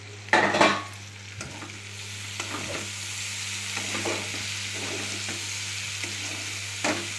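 Rice fries in a pan with a soft, steady sizzle and a low hum underneath, broken by a loud clatter of stirring near the start and a few more scraping stirs later.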